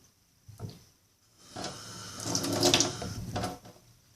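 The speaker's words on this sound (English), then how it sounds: "Add a little bit more water to soak." Warm water, heated in a solar oven, is poured over beans soaking in a container, making a close splashing and trickling pour after a brief knock, ending with a few small clinks.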